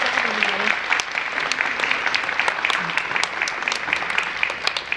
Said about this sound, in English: Can we have another round of applause for our writers?